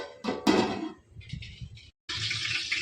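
Boiling water pours and splashes into a pot of chicken for dum biryani in two bursts separated by a short pause, the second a steady, hissing stream.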